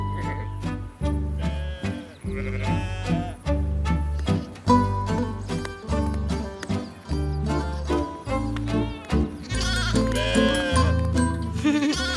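A ewe bleats again and again in an animated setting, with wavering calls layered over steady low tones and no break.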